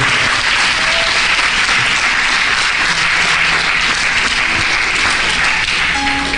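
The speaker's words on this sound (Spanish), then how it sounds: "Dale un fuerte aplauso al Señor, aleluya." A church congregation applauds loudly and continuously, dense clapping sustained throughout without a break.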